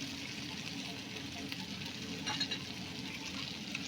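Spice paste fries in a pan without turmeric, a soft, steady sizzle with gentle stirring scrapes, fairly quiet and close, with a brief louder stir near the end and no voices.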